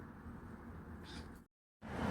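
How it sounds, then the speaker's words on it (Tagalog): A stray cat meows in a small garden area with sand and grass, a continuous near cry running for about one and a half seconds, breaking off into a brief silence, then resuming. "Wawa naman itong pusa na ito."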